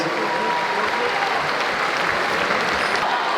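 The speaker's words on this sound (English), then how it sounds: "Round of applause for this young man." Sustained crowd applause fills a strongman competition arena, a dense, steady wash of clapping from a large audience with no break and no talk over it.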